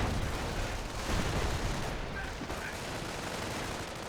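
Company of Heroes infantry squad exchanging gunfire, a dense continuous crackle of rifle and machine-gun shots with rumbling battle noise, steady and loud throughout, with no speech present.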